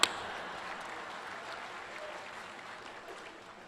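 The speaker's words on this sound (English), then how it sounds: "So, yes, I thought that would get some applause." A commencement audience gives a brief round of applause at moderate distance, a soft spread of clapping that slowly fades away.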